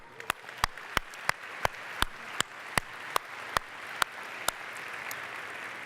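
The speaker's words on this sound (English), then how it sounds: "who deserve a huge, huge round of applause." An audience at the Collision 2019 tech conference gives a round of applause, a dense wash of clapping beneath a row of sharp, evenly spaced loud clacks about every half second, which fade near the end.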